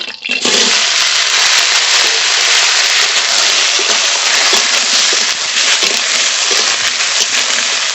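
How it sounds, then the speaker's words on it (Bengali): Green plantain pieces dropped into hot mustard oil in a wok, a loud, dense rushing sizzle that holds steady for several seconds, close and alone. "তেলে দিয়ে রাখা কাঁচকলা দিয়ে দেবো"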